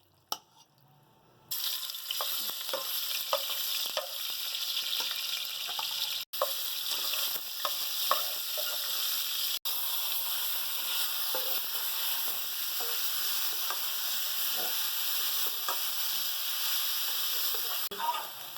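Chicken sizzles in a few spoonfuls of hot oil over high heat, a continuous dense crackle broken by occasional spoon scrapes and a couple of abrupt cuts.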